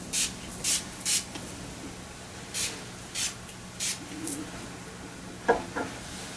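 Several short, sharp hissing sprays from a spray bottle, spaced irregularly, close by and moderately loud against a quiet room background.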